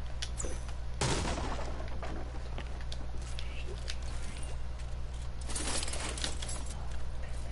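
Rapid gunfire from a minigun in a video game, bursts of fast crackling shots over a constant loud background roar, with a brief heavier blast near the start.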